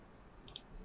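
A computer mouse gives two quick, faint clicks close together in an otherwise quiet moment of software editing.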